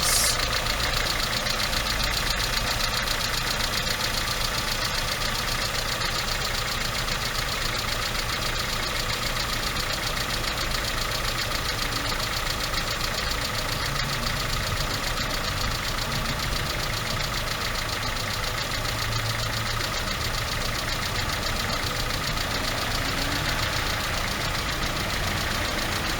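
A Peugeot 306 car engine idles steadily and loudly for the whole stretch, a continuous low rumble with some knocking texture and no talk over it.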